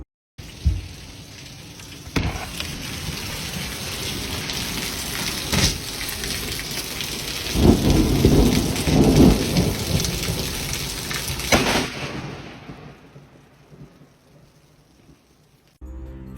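Heavy rain pours steadily through a storm, with sharp thunder cracks and a loud rumbling roll midway before the downpour fades into quiet near the end.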